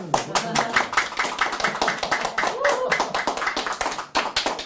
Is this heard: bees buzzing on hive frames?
no